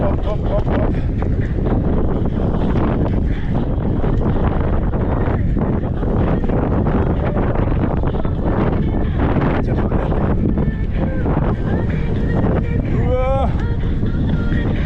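Heavy wind blasting the microphone on an exposed Crimean hillside, a constant loud rumbling buffet that never lets up, with people talking faintly underneath.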